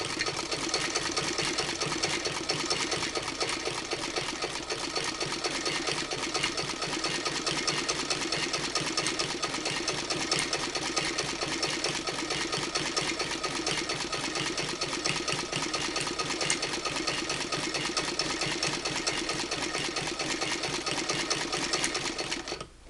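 A hand-crank sewing machine stitches quilt binding in a continuous, fast mechanical whirr with a steady rapid clatter of the needle, close and uninterrupted.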